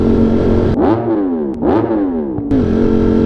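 Motorcycle engine heard on the move through an underpass, loud and close, with a steady drone broken by three rising revs and gear changes.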